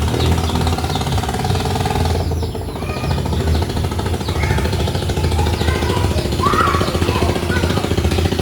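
A motorcycle engine drones loudly nearby with a rough, steady throb, its note rising a little as it revs in the middle.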